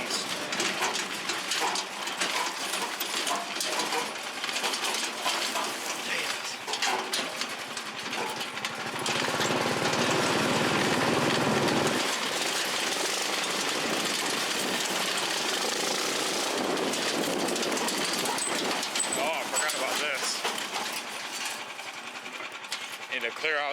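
A Yerf Dog 3203 go-kart engine buzzes steadily and loudly throughout an off-road ride, its pitch holding with a brief surge midway, while the rider talks over it.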